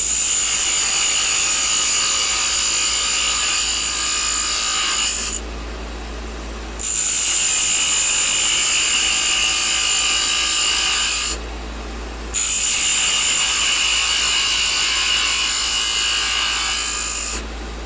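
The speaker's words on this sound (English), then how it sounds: "Just using the heel of my skew chisel. As I rotate in, I push just a little bit." The heel of a skew chisel cuts a wooden chess rook spinning on a lathe. It makes a loud, steady, close hiss in three long passes, broken by two brief pauses where only the motor hum remains.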